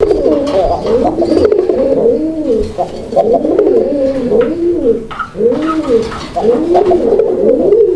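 Domestic Raj-Golla pigeons cooing close by, with repeated loud rolling coos overlapping in a steady rhythm throughout.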